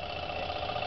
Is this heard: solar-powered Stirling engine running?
yes